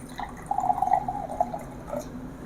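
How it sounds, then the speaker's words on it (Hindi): Water poured into an empty glass, a short, quiet trickle with a rising gurgle lasting about a second and a half, alone in a quiet room. "अब मैं देखिए इसमें पानी किया"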